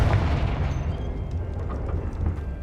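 A Confringo fire spell from Hogwarts Legacy blasts out as a loud, rumbling explosive burst that keeps roaring and crackling through the whole moment.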